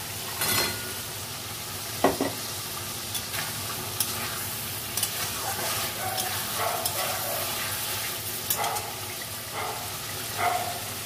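Fried lentil fritters stirred into a sizzling, well-cooked spiced masala in a pan, with a steady sizzle and scattered spoon scrapes and clatters throughout, no talking.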